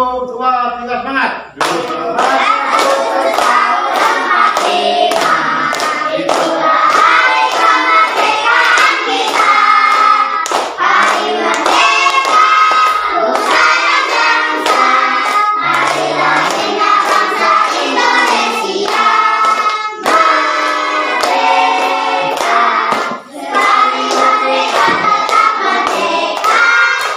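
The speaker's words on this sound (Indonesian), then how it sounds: "Tepuk tangan." A classroom of Indonesian schoolchildren claps hands together in rapid, steady bursts, loud and close, with voices chanting and calling out between and over the clapping throughout.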